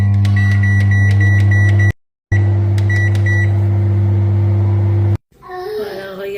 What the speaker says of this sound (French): au micro-ondes.